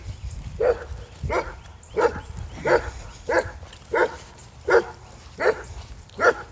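A big dog barks repeatedly in a steady rhythm, about nine deep woofs, fairly close with low background noise between barks.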